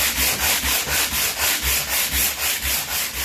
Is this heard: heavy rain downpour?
no